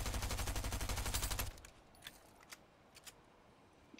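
Gunshots behind the players in Fortnite, a rapid full-auto burst of loud repeated shots that cuts off abruptly, followed by a few faint scattered pops in the distance.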